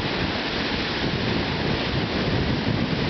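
Strong ocean waves break and wash continuously on the beach at Tucker's Point, a loud, steady broadband roar with no pauses and no voices.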